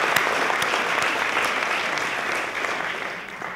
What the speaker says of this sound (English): Please give Philippines a round of applause.